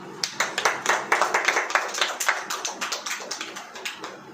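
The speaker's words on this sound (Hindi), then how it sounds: "अब ताली बजाओ" A crowd at a religious gathering claps in quick, rhythmic bursts of many hands, sharp and moderately close, gradually softening over about four seconds.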